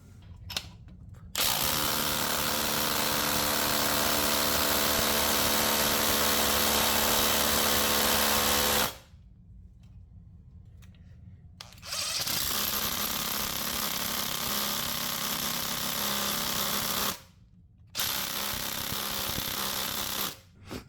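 A Milwaukee Fuel impact driver hammers on a torque-test dyno in loud, sustained bursts. One long run is followed by a pause, then further runs separated by brief silences.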